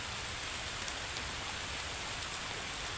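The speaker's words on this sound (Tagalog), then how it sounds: "Buti at ano lang, mahina lang yung ulan." Light rain falling steadily outdoors, a soft, even patter with faint scattered drops, quiet and continuous with no voices.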